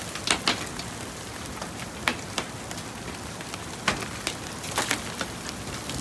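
Golf-ball-sized hail falling outside a home, sharp irregular impacts cracking against hard surfaces over a steady rain-like hiss, with several louder hits spread through the clip and no talking.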